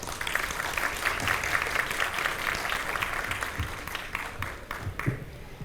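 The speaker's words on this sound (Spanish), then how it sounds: "Fuertes aplausos, por favor." An audience at a poetry book presentation at the Lima book fair applauds, a dense patter of many hands clapping steadily before thinning out toward the end, with a few louder claps.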